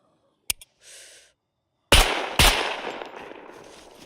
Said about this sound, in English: I'm firing my rifle